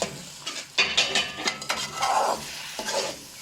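Whole spices and minced meat being roasted in a pan, heard as a close scraping stir with light sizzling and a few clinks of a spoon against metal in irregular strokes.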